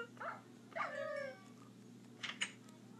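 A dog in the Minecraft video game makes a few short yips and whimpering whines, spaced out over a few seconds with a quiet background hum between them.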